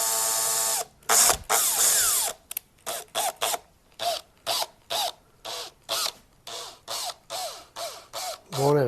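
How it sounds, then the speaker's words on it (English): A drill bit cuts a hole at a steep angle in many short, close bursts, the motor starting and stopping repeatedly with brief pauses between pulses. "Going at a pretty steep angle here. Drilling in a little at a time."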